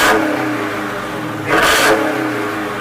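A 2020 Dodge Hellcat in its equal exhaust mode revs twice, a loud, raspy engine roar that swells and falls close to the microphone over a continuous rumbling idle.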